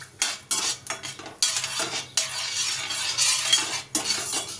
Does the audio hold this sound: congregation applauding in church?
no